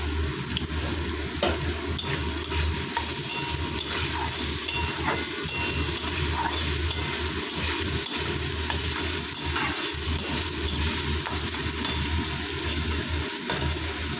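Steady bubbling and sizzling from a pan of potato curry (aloo dum) with salt and a little sugar, continuous and even throughout, with no talking.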